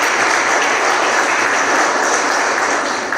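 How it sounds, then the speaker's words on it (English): Sustained applause from a conference audience at an African tax leaders' master class in Rabat, dense and steady throughout without a break, no voices over it. "Give him a round of applause"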